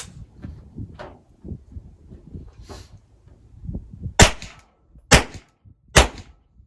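Three loud, sharp gunshots from an unsuppressed firearm ring out about a second apart near the end, after a stretch of faint low handling noises and rustling.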